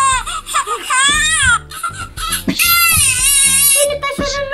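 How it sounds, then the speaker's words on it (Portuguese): A loud, close baby cry in GTA 5, with wailing, rising and falling sobs and brief whimpers mixed with gameplay sounds and voices. "Ele tá chorando dentro da minha barriga."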